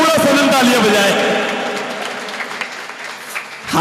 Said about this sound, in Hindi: एक बार जोरदार पूरा सदन तालियां बजाए